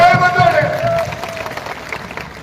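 An outdoor crowd at a political speech by a politician in Neemkathana, Rajasthan, breaks into dense, sustained applause that swells just after a voice calls out from a loudspeaker.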